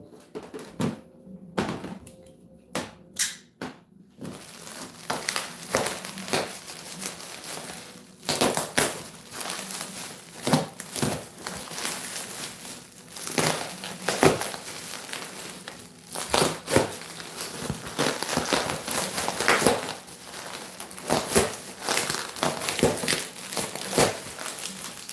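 Packaging is opened on an NEC ultra short throw 720p projector: close crinkling and crushing of plastic and cardboard, with scattered sharp rustles, taps and bumps throughout.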